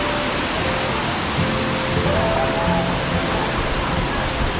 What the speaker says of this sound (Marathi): तर हा असा सावडावचा धबधबा इथे वाहतो आहे